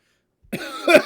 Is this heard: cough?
yes